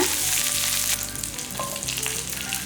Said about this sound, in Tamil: இதெல்லாமே நல்லா பொரியட்டும் கருக விட்டுறக்கூடாது பொரிஞ்சிடணும்